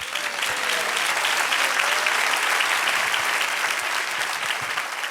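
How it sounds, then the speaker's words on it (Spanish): Church congregation applauding during a Spanish-language sermon, a dense, steady wash of many hands clapping at once, fairly loud and continuous throughout with no voices on top. "Dale un aplauso al Señor."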